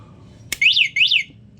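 Electric bike buzzer sounding, a sharp click followed by two loud, close, warbling electronic beeps in quick succession, then quiet.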